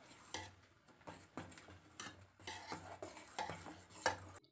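A spoon stirs oats porridge in a metal pot, with close scraping strokes and clinks against the pot repeating in an uneven rhythm and soft bubbling in between.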